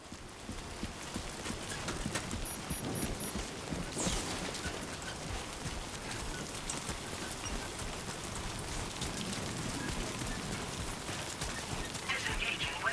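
Steady rain falls in the video game Death Stranding 2, a dense continuous patter with a brief louder burst near the start and a faint background voice.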